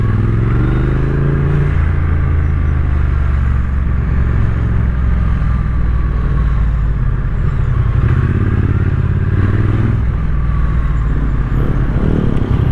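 A Triumph Street Twin 900 motorcycle engine rumbles steadily while riding, a loud, close, continuous low throb with wind buffeting and small rises in revs.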